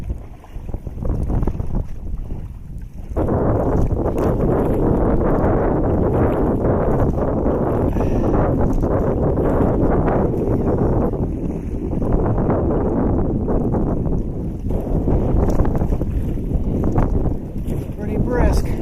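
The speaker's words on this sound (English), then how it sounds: "Wind is pretty brisk." Brisk wind gusts outdoors at a snowy canoe campsite, a steady broad roar buffeting the microphone for most of the stretch after a quieter opening, close and continuous.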